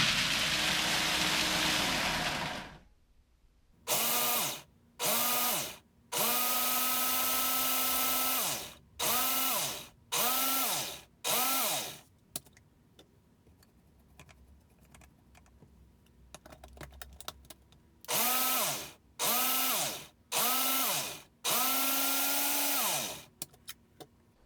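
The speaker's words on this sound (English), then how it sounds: "I'm going to use the Smooth Boost Yes and blend." A Nutri Ninja blender grinding almonds on its Smooth Boost setting runs in a series of loud, short pulsing bursts, pitch climbing in each burst, broken by brief pauses and one longer quiet stretch.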